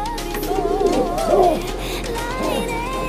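Breeder pigeons in a loft coo in a few soft, rolling calls, close by, with a steady low background hum and no talk.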